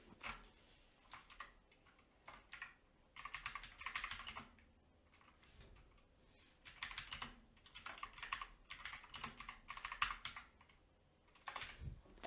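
Fingers typing on a computer keyboard in bursts of rapid, light clicking separated by short pauses, close and soft, with no voices.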